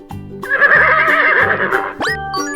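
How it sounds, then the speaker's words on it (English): A toy horse sound effect gives one long, loud whinny lasting about two seconds, set among a farm-animal toy sound sequence, followed by a short second call, with no talk. "Horse."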